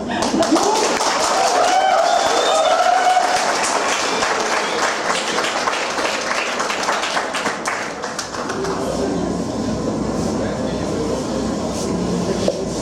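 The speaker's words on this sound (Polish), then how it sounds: "Brawa, brawa." A crowd claps in a dense, steady burst of applause at a school teachers' council meeting, fading to a lower murmur partway through, with voices mixed in.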